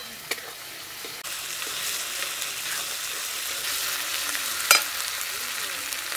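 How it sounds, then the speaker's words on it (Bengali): Spice masala with chopped tomato for a stingray fish curry fries in a pan with a steady close sizzle, broken by a few sharp clinks and scrapes of stirring, no voices. "মশলাটা খুব ভালো করে কষে নেব।"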